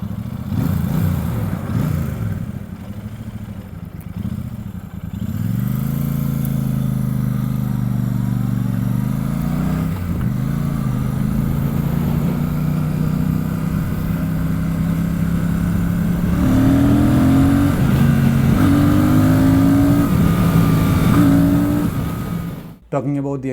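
A Royal Enfield Super Meteor 650 with its 648cc air- and oil-cooled engine runs nearby, holding a steady, smooth drone whose pitch climbs in a few gentle revs before cutting off abruptly at the end.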